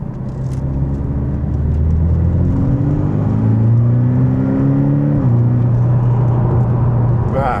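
A Porsche 718 Boxster GTS engine, warm and in manual mode, heard up close from the cabin. It revs in a loud, steady climb through the gears with a rising growl, then a brief dip before holding a strong drone.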